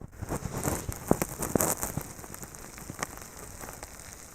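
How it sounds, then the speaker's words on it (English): Maggots squirm inside a dead kangaroo carcass, close to the microphone, making a wet, fizzing crackle scattered with sharper pops and ticks. The crackle stays soft and irregular, like light rain on a surface. "the maggots in that are coming out of him now are just absolutely gross. I can hear them."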